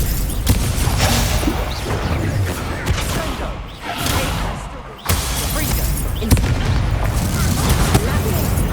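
Incendio fire spells are cast again and again in Hogwarts Legacy, giving loud, dense bursts and booming whooshes that repeat almost without pause.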